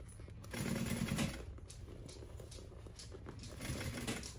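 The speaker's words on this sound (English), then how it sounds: "that that you hear is my husky's legs" A husky's paws patter and click on the floor nearby, soft irregular steps under a faint background hum in a home sewing room.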